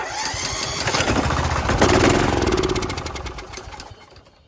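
A Kohler Courage engine on a Craftsman YS4500 lawn tractor turns over and catches, running roughly for a couple of seconds before sputtering and fading away. It is close and there is no talking.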